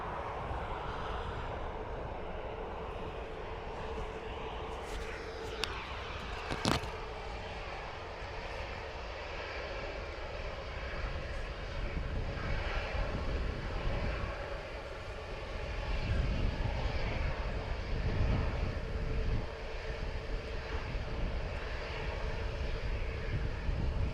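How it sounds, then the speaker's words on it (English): An Iberia airliner departs Dublin Airport bound for Madrid, its jet engine roar holding as a broad steady rumble that swells louder toward the end of the clip, with no talk over it. "Iberia off to Madrid."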